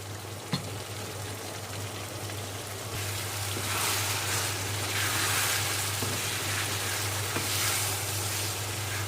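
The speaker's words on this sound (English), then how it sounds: "Just going to cook this in for a further 5 minutes." Chilli con carne sizzles steadily in a pan over heat, a continuous broadband hiss and crackle that grows slightly louder partway through, with no talking.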